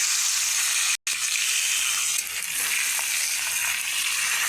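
Meat added to hot oil spiced with dried red chillies, cumin, cardamom and salt, a steady bright sizzle and frying hiss close by, broken by a brief dropout near the start.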